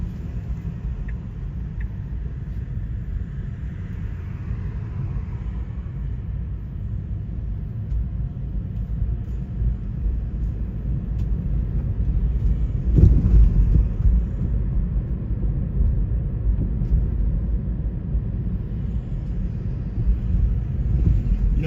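Car accelerating along a New York City street, heard as a steady low road rumble with a brief louder surge midway, continuous traffic noise without speech.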